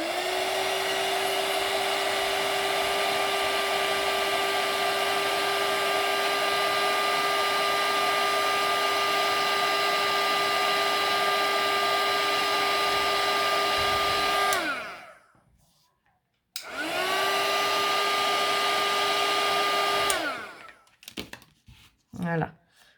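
A hair dryer-like device used for applying ink roars loudly and steadily, cuts off abruptly, restarts, then winds down to sputtering quiet near the end.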